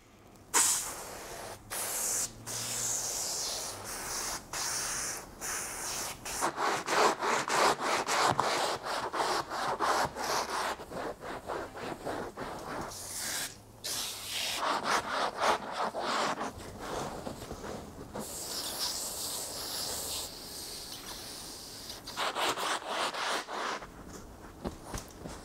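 A cloth works cleaner off vinyl car upholstery in the interior of an RA28 Fastback, making steady back-and-forth rubbing and scrubbing strokes for a long stretch, with short breaks between passes and no talk.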